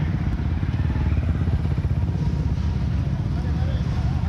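Motorcycle engines rumble and burble close by at a motorcycle gathering, ranging from small kapcai bikes to big-bore machines, with a continuous throbbing, idling growl and slight rev fluctuations.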